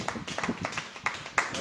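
A church congregation clapping together in rhythmic bursts, a steady series of sharp hand claps at moderate distance, fairly quiet and brief.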